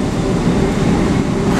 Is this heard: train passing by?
yes